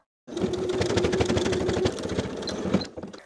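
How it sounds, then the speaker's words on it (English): A sewing machine stitches carpenter pants along the original stay stitching, through the welt and pant fabric from one edge of a rectangle to the other. It runs as a steady, close, continuous whir for about two and a half seconds, then stops. "Sewing right along the original stay stitching from one outer edge of the rectangle to the opposite outer edge of the rectangle."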